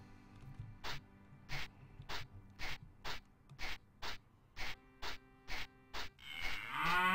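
A cow moos in the video game Daggerfall as a brief low call near the end, after a run of evenly spaced short thuds that sound like footsteps.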